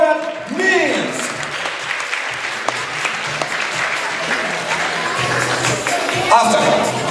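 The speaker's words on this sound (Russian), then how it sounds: "дорогие друзья, аплодисменты!" Sustained audience applause at an international talent contest concert, dense clapping from a crowd filling the whole stretch, steady and loud with a brief swell near the end.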